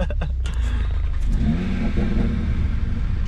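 A Mitsubishi Evo engine revs and rumbles steadily at close range, a low sustained drone with rising tones, while a voice briefly chatters at the start.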